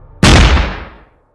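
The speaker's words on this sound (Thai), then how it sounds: "เสียงปืนระเบิดลั่น" A single loud gunshot sound effect in a Thai horror audio story booms suddenly, close and heavy, then rings out into a decaying rumble lasting about a second.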